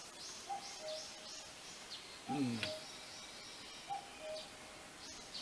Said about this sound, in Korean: 오늘 아침에도 뻐꾸기 소리가 아주 좋습니다